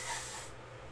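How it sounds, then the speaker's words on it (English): A short burst of WD-40 silicone spray hissing from an aerosol can into a cup, about half a second of close spray that then cuts off. "I am going to spray this with the WD-40."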